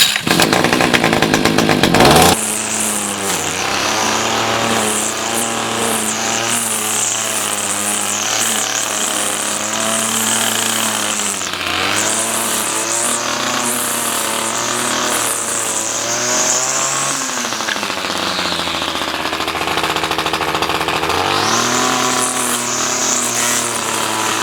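A Mountfield S461PD petrol lawn mower engine, freshly fuelled and revived, runs steadily up close after a brief louder burst at the start, its drone dipping and rising in pitch now and then.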